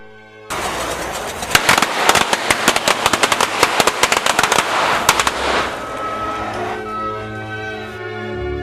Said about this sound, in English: The problem was I was using basic fuse and firecrackers